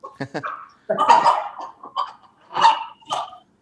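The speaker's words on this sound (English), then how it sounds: "And this here is a Malay chicken." A loud, harsh Malay chicken call sounds in rough, gargling bursts, several uneven cries close by with short pauses between them.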